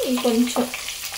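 Bay leaves fry in hot oil in a pan for a dhaba-style chicken curry, giving a steady sizzling hiss for a second or so with a faint tonal sound over it.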